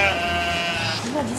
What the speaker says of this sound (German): Oh, Schafe, guck mal.